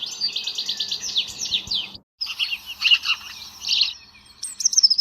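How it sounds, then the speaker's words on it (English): A goldfinch sings close by in rapid twittering trills and chirps, with a short pause midway before the bright song resumes. "listen to the sound of his voice. He is a goldfinch."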